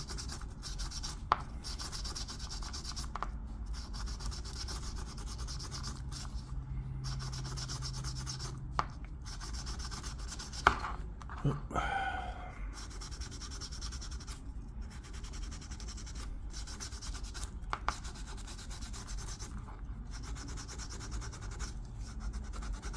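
Worn sandpaper rubbed by hand over a small carved wooden barrel, a soft, close, continuous scratchy rasp with quick back-and-forth strokes and occasional light knocks, no talking.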